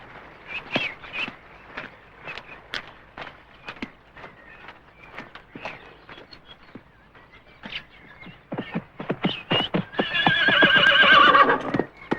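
A horse in a medieval outdoor setting: a steady run of close clip-clop hoofbeats builds to a loud, drawn-out whinny near the end, with no voices.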